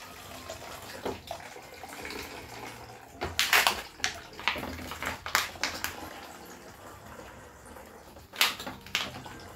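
Water spurting from a squeezed Sawyer Squeeze portable water filter pouch, coming in short uneven gushes and splashes, close and fairly quiet.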